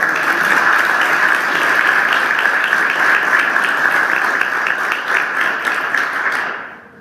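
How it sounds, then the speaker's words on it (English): A school audience bursts into loud, close applause, brisk rapid clapping holding steady for several seconds before tapering off and stopping abruptly. "let's give a round of applause for the bus driver"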